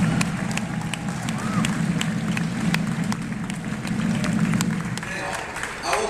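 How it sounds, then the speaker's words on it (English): An audience at a recognition event for Brian at Central applauds steadily, many hands clapping in a dense, sustained patter, with voices murmuring underneath. "So I think we do owe him a big round of applause."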